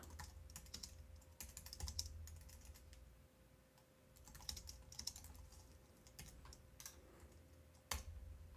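Typing on a computer keyboard, steady bursts of light key clicks with brief pauses and a few louder keystrokes, fairly quiet and close, with no talking.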